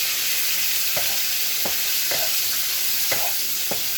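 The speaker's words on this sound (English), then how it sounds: "So I'm going to fry the shrimp very lightly." Shrimp fry lightly in a pan with a continuous loud sizzle, punctuated every half second or so by soft stirring scrapes; no voices.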